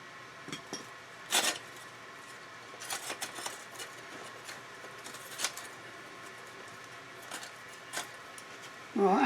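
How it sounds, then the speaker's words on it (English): Rusty bicycle chain being worked back and forth with pliers during a budget bike restoration, giving scattered metallic clinks and rattles, a sharper burst early on and several clusters of faint jangles, close up with no talk. "after a little bit of work using pliers to bend this back and forth, finally got our rusty chain out"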